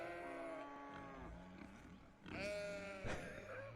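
Farm animals low and bleat in the Cities: Skylines city-building game, overlapping drawn-out calls forming a continuous faint chorus with a louder swell midway through.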